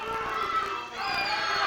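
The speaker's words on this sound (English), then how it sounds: "The crowd here at Davis Arena just on their feet, screaming and hollering at Jason Lee" A wrestling arena crowd at Davis Arena screaming and hollering, a dense roar of cheers and shouts that rises and dips slightly, with some voices standing out.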